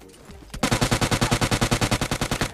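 UMP submachine gun fire in PUBG Mobile Lite: after a brief quiet moment, a rapid, evenly spaced burst of about twenty shots, loud and close, running to the end.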